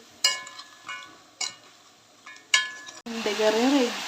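A crab roast is stirred in a pan: a spoon scrapes and clinks against the metal in four sharp strokes, followed by a rising sizzle of frying, with faint voices in the background.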